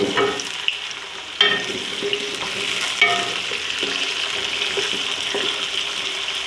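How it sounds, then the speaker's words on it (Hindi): Potatoes fry with a steady sizzle in a pan over lightly browned onions for a Hyderabadi aloo matar pulao, as a spoon repeatedly stirs and scrapes them with sharp clacks. The sizzle is close and continuous, and nobody speaks. "आलू भून लेती हूँ तकरीबन 5 मिनट"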